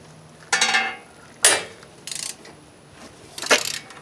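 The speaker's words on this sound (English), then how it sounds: "a long ratchet and a 14 millimeter socket, and I'm going to pull on it towards the back of the vehicle" A long ratchet fitted with a 14 mm socket works a brake caliper bolt on a Honda Odyssey's front brake assembly, giving four separate bursts of clicking and metallic clatter, close and moderately loud, with quiet gaps between them.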